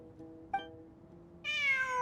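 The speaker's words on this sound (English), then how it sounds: "I'm not hearing things. It really is a cat." A cat in the Genshin Impact video game gives a short faint chirp followed by a clearer, drawn-out meow over quiet background music.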